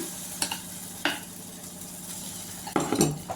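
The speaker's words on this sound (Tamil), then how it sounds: "ஆப்பக்கலை தூக்கி இப்படி சுற்றி விட்டுக்கலாம்" An appam pan with batter being lifted and swirled: soft sizzling under a few sharp metallic clinks and scrapes of the pan on the stove, close and quiet, no voices.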